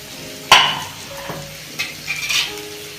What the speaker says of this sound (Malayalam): ഇളകിക്കൊണ്ടിരിക്കണം.